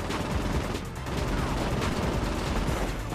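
Dense, continuous gunfire rattles through a Saints Row 4 firefight, a loud unbroken wash of overlapping shots with barely a pause.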